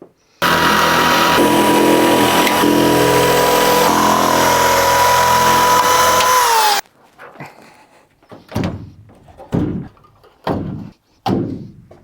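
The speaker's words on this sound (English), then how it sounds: "now we'll be cutting along this line because this panel support has to go" A loud power saw cuts steadily through an insulated panel for several seconds, its pitch dropping as the blade finishes, followed by a few knocks and thuds.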